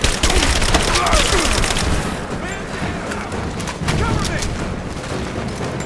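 Video game firefight in Rise of the Tomb Raider, loud bursts of gunfire at the start that settle into scattered shots and echoing reports, with a character shouting over the shooting.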